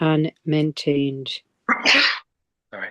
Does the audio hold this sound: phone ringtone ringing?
no